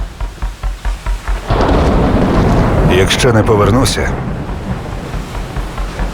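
Heavy rain pours steadily while thunder rumbles loudly and long; a voice speaks briefly at the start before the storm swells.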